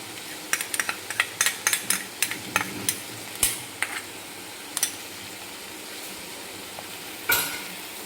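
A spoon stirs and scrapes bonda tikka masala in a pan, sharp clinks and scrapes landing in an irregular series over a faint steady sizzle, close and fairly quiet.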